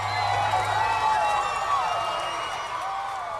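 A massive crowd at a fishing tournament weigh-in on a dock cheers and whoops as a giant marlin is pulled onto the scale, loud and continuous with clapping mixed into the roar.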